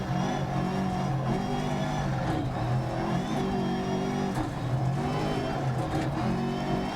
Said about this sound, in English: So we've taken control of Colin's car with heavy damage to bodywork.